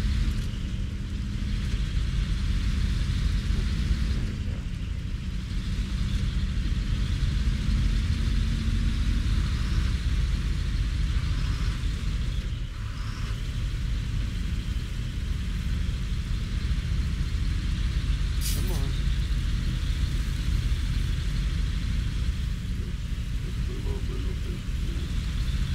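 A truck grinds along a muddy rut in the SnowRunner video game, giving a steady low engine drone and rumble throughout, with a voice talking faintly over it at times.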